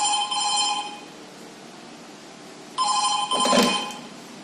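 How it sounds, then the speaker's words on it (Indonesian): A telephone bell rings in two bursts separated by a pause, clear and fairly close, with a brief clatter near the end of the second ring. "gue harus telepon Wati"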